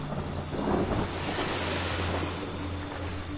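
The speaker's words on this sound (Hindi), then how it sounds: "उसके घुटनों तक पानी आया और लहर वापस जाते हुए पानी वो वापस ले गई।" Ocean waves surge and wash up onto a shore with a steady broad roar, the swell rising and then drawing back, with some wind buffeting the microphone and no voices.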